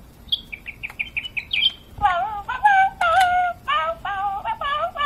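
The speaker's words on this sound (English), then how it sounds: "I heard bird song." A bird sings a quick series of high chirps, then shifts to louder, fuller warbling phrases, close by with no voices.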